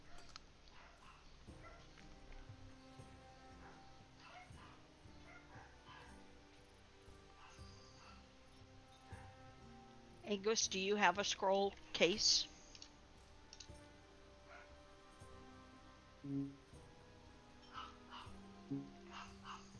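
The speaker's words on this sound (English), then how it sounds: "the dogs are going bananas" Dogs bark excitedly in a short, loud burst of rapid yips partway through, heard indoors while a person speaks over faint clicking in the background.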